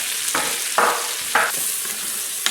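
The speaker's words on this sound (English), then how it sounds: "jalapenos, onions, and our garlic as well. And we're going to just cook those down until they're softened" Jalapenos, onions and garlic fry in a pan as they cook down, a steady sizzle broken by a few louder bursts where the vegetables are stirred.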